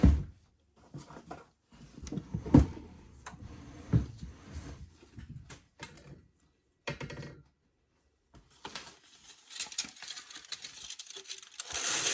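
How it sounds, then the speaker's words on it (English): Tin foil crinkles and rustles in bursts as it is pressed over a baking dish of apricot chicken before baking at 350, with quiet pauses and a few light knocks between handlings. "I want to cover it with some tin foil."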